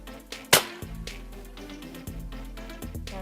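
Nerf blaster firing a mega dart: one sharp, loud pop near the start, followed by quieter mechanical clicks and rattles.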